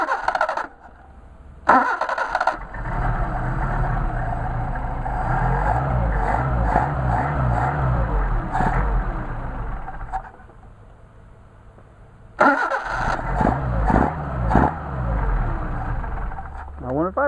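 A Mercedes 190SL engine runs during carburetor testing, a close steady idle with rough, uneven pulsing that dips and falters, framed by brief gaps of louder noise and revving at the start and near the end.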